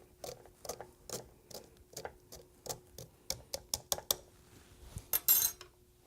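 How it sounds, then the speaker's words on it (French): A spoon crushing a DNA extraction mixture through a sieve, giving a rapid series of sharp metallic scrapes and clicks in an uneven rhythm, close and fairly quiet. "Et à l'aide d'une cuillère, on va tout simplement écraser le tout."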